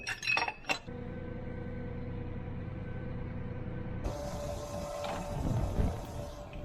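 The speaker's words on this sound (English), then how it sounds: "Start dumping some corn in a bin" Corn being dumped into a farm bin: a steady, dense rush of grain over a low engine drone, opening with a few sharp clanks and swelling louder near the end.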